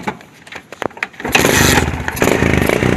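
Barako motorcycle with a rough idle fault starts up: quiet clicks and cranking, then the engine catches at about 1.3 seconds and runs steadily and loud, close by, with no talk.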